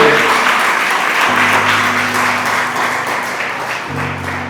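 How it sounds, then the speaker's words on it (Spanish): A church congregation applauds during a sermon, sustained clapping with a low organ or keyboard chord droning beneath it, the applause staying steady throughout. "Démosle ese aplauso a Jesús"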